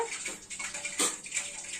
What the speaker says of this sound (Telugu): ఇది వచ్చేసి కోల్డ్ వాటర్